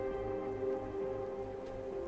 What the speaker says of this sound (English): It wouldn't last. What? The rain.